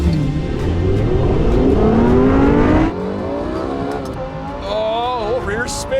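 A Lexus LFA and a Lamborghini Huracan STO launching side by side in a drag race, loud engines roaring and revving upward through the gears, one dropping off as the other keeps climbing, with faint voices underneath.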